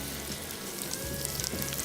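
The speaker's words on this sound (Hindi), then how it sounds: "जैसे ऑयल गर्म होता है फिर हम इसमें शामिल कर देते हैं स्लाइस किए हुए प्याज" Sliced onions sizzling in hot oil in a pan, a dense, steady, close frying hiss with faint popping throughout.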